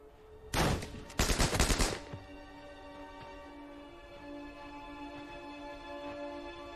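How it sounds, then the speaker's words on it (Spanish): Machine guns fire in a massed burst of rapid shots, first a short volley and then a longer sustained roar that quickly stops and leaves a low ambient hum. "Sus soldados abren fuego con las ametralladoras y reducen a los prisioneros."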